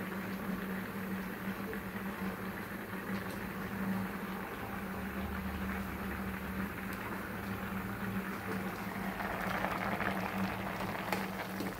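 Sugar syrup with homemade tutti frutti fruit pieces bubbles as it boils down, a continuous low simmering hiss and burble with a faint steady hum underneath and no speech.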